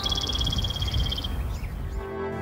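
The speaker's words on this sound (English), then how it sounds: "you can hear the birds chirping and the trees." A bird gives a rapid high trilling call for about a second over a low outdoor rumble, then quieter chirps follow faintly.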